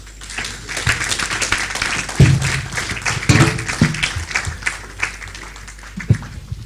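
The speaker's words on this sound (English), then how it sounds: "A wonderful round of applause for Dr. Sonny Kuku." A crowd at a public lecture applauds steadily, many hands clapping together in a sustained round, with a few louder thumps scattered through.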